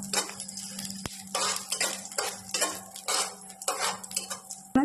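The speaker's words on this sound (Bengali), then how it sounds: "আমি এখানে কালো জিরে, শুকনো লঙ্কা আর কয়েক কোয়া রসুন গোটাই এখানে ভাজতে দিয়েছি।" Black cumin, dried chillies and whole garlic cloves fry in hot oil in a wok, heard as repeated close metallic scraping and clinking of a spatula over a light sizzle, with no talking.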